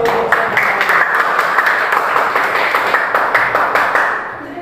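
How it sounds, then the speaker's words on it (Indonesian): Students in a classroom give the KWN group a round of applause, loud and close, with quick rhythmic claps that fade out toward the end. "Oke, terima kasih kepada kelompok KWN. Kita kasih aplaus."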